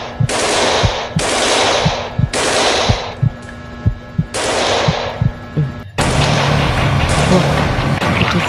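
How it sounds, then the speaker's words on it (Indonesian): Gunfire in a zombie video game: steady runs of rapid shots repeating about once a second, with short pauses between bursts, over a low throbbing hum and then a denser wash of continuous noise. "Ada suara tembakan cuy."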